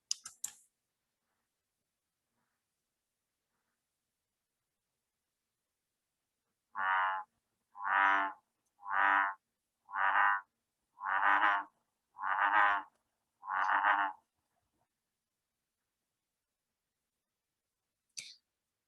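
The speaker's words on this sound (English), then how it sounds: "This is what invasive bullfrogs sound like." Invasive bullfrogs croaking in a run of seven deep, throaty calls in quick succession, fairly close and distinct against an otherwise silent background.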